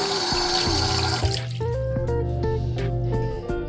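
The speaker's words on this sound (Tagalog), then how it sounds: "Ito nga pala po yung hugasan." Water running from the tap into a hotel bathroom sink, a steady splashing and trickling stream with dripping tones, close and continuous throughout.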